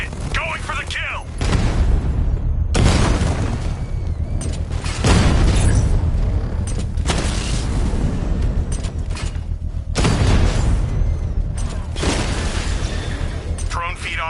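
Heavy explosions and gunfire from Batman: Arkham Knight roar almost continuously, with repeated loud booming blasts and crackling shots layered under in-game radio chatter and voices.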